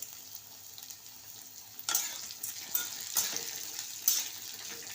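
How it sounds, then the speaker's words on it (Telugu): Urad dal fries in oil in a pan, a soft steady sizzle with a few louder crackling bursts as it is stirred. "మంచిగా ఈ ఫ్రై అయిపోతే టమాటాలు వేసి ఫ్రై చేసేస్తా ఇదిగోండి వేగిపోయినాయి మినపప్పు కూడా ఫ్రై అయింది"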